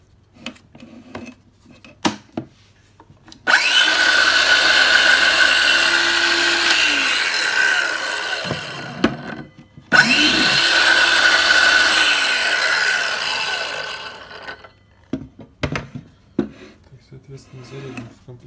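A cordless circular saw cuts wood in two long, loud, whining passes with a short pause between them, framed by scattered handling clicks and knocks before and after.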